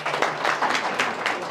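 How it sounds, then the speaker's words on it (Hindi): A crowd applauds at a BSP political rally in Vaishali, a loud burst of scattered clapping with uneven swells and a low hum beneath. "इसके लिए ताली मारी है"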